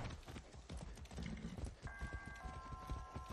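Horse hooves clip-clop in a steady walking rhythm in the Far Cry 6 video game, close and fairly clear, with a few brief tonal game sounds in the background.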